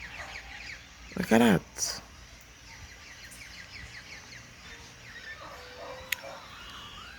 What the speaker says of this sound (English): look at the birds